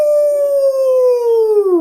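A human voice imitates a wolf howl, one loud, sustained, gliding tone that falls slightly in pitch over nearly two seconds, heard alone and close.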